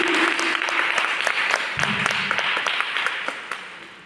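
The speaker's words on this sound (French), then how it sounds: "que vous applaudissez." An audience claps steadily at a cultural event, a dense, sustained applause that fills the whole stretch at moderate loudness, with a brief low murmur partway through.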